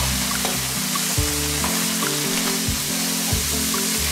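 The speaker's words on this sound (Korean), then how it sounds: "네, 고춧가루 들어가서 또 이제 볶아주고요." Canned tuna, added with its liquid, is stir-fried over high heat with chili powder in a pan, giving a steady close sizzle that runs throughout.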